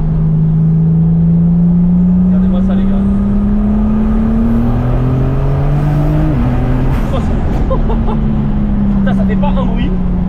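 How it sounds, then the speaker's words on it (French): A BMW E36 with a 645 hp engine swap accelerating from inside the car, a loud droning engine note rising steadily in pitch, with a voice speaking over it. "vous allez voir quand on fera une accel après ça marche déjà grave."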